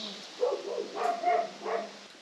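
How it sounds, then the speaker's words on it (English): Indoor dogs bark in a few short bursts, muffled and moderately distant, with yips spread over a couple of seconds and no talk over them. "I don't think the indoor dogs barking helped the situation."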